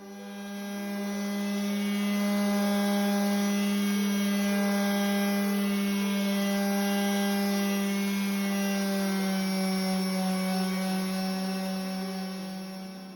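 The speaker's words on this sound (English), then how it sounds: "I'm going to grind some of it down." Power tool steadily grinding down textured paint on a canvas about 30 by 15 inches, one continuous loud whining drone with a steady pitch, close and without interruption.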